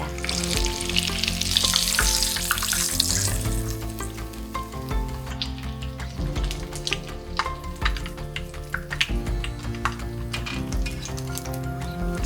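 Breaded ham-and-cheese mille-feuille cutlets sizzle steadily in hot frying oil, a bright crackling hiss full of small pops, loudest at first and then settling into an even, close bubbling with no one speaking.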